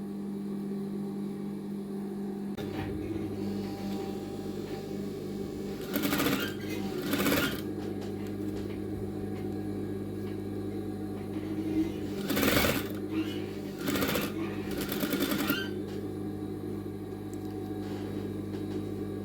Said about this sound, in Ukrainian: Строчити буду я, попадаючи в шов верхньої строчки по кокетки.